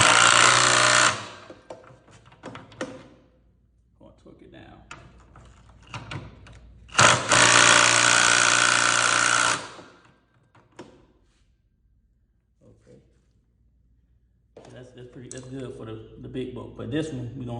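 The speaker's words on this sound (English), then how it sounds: "I'm gonna pretty much use the drill, then torque it down" Two loud bursts of a power drill whirring as it tightens a nut on a minibike, each lasting a few seconds, separated by quieter clanks and handling noises, with talk near the end.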